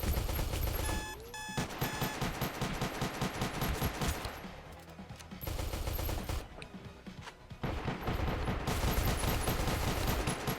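Rapid automatic gunfire in the Space Station 14 video game, dense rattling bursts that repeat across the clip, broken by short lulls, loud and close amid busy game sound effects.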